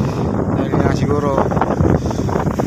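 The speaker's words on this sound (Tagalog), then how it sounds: "sobrang lakas ng hangin." Strong wind roars and buffets the microphone in a low, continuous rumble on an overnight fishing trip at Pulong Bae, with a faint voice briefly audible beneath it.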